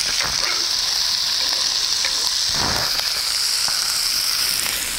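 Chopped onion sizzles steadily in a hot pan with andouille and bacon, a loud continuous frying hiss broken by occasional scrapes and stirs of a utensil.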